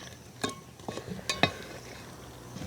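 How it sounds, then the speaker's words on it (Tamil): A spoon clinks and scrapes against a pot while Aadi Kool porridge with palm jaggery is stirred, several distinct metallic knocks spaced irregularly, fairly close and alone. "எல்லாத்தையும் சேர்த்து ஒரு கிண்டி விடுவோம்"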